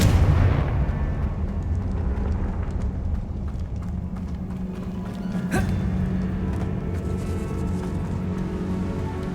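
Confringo explosive spell in Hogwarts Legacy, an opening boom fading into continuous low rumbling with a sharp crack midway, loud and sustained.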